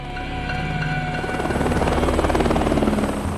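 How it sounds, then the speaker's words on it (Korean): A helicopter carrying a prisoner to a prison drones with a steady rotor and engine roar, loud and close throughout, swelling slightly toward the end with no voices. "다음날 현 세계 챔피언 아이스맨이 헬기를 타고 교도소로 이송됩니다"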